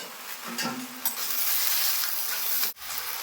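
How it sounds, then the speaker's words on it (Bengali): Jujube pickle stirred in a pan, a steady hiss of frying with soft scraping from the spoon, close and even throughout, ending abruptly, no voices. "এবার খুব সুন্দর করে নেড়ে নেব"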